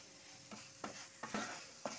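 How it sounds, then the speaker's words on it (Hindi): Moong dal halwa being roasted and stirred in ghee in a pan, a soft frying sizzle under several distinct scraping strokes of the spoon, close and steady. "हमें लगातार इसे सेकते रहना है, इसे छोड़ के कहीं पर भी मत जाना वरना ये जल जाएगा।"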